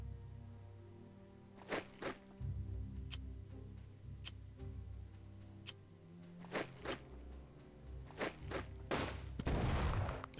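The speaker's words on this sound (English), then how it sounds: "Don't you love that big explosion sound?" Wartime explosions and gunfire in the strategy game Unity of Command II: sharp, scattered bangs and shots over a low rumbling bed, with a denser burst of fire near the end.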